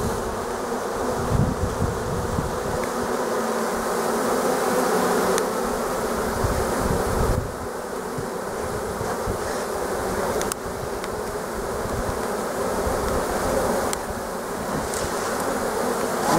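A swarm of honey bees being hived hums in a dense, steady buzz close by, continuous throughout with small fluctuations and no talking.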